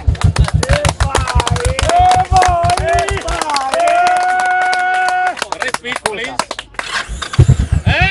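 A Yamaha XVS Dragstar 1100 motorcycle's starter motor cranks in rapid, rhythmic chugging bursts at the start and again near the end. Loud voices talk over it throughout.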